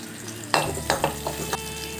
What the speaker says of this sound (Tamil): நறுக்கிய சின்ன வெங்காயத்தை போட்டு நல்லா வதக்கலாம்.